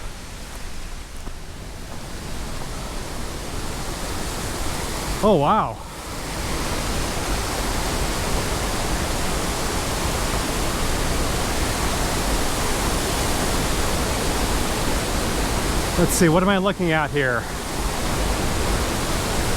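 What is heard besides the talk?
waterfall in a mountain gorge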